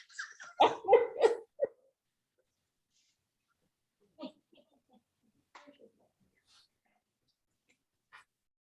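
A dog gives a short burst of close barks or yips near the start, followed by long quiet stretches with only a few faint scattered noises.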